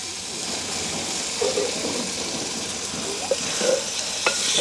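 Thick tamarind water poured into frying pirandai in a village kitchen sets off a steady close sizzle, with a few soft stirring scrapes and clinks over it.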